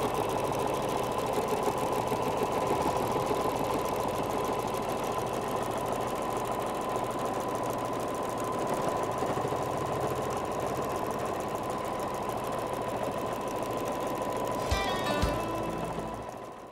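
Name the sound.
sewing machine tacking down appliqué on regalia apron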